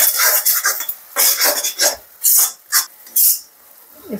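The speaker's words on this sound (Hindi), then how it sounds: "अब कर लेते हैं इसकी अच्छे से भुनाई" Ginger garlic paste being fried in a pan while a metal spoon scrapes and stirs it, in rhythmic bursts of harsh scraping with short pauses between, close and fairly loud.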